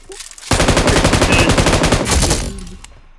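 Loud, rapid automatic gunfire in a video game rattles out in a sustained burst of closely packed shots lasting about two seconds before cutting off, with a faint voice just before it.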